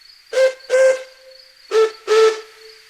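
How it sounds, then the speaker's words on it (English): A deep steam whistle sounds four loud blasts in two pairs, each short and steady, with brief silence between them. "Donald and Douglas have deep-tone whistles."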